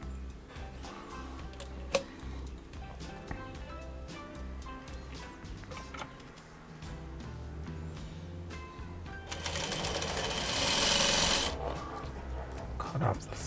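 A sewing machine stitches a quilt block seam for a courthouse steps block, a steady rapid ticking whir that runs on and grows louder and harsher near the end.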